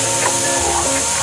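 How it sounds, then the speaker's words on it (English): A loud, even hiss of ingredients with ginger paste frying in a pot for Ilish polao, holding steady throughout the short moment. "now I'm frying all the ingredients here"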